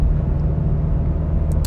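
A new Honda Prelude drives off with a steady, low engine rumble, close and fairly loud, and no voices are heard.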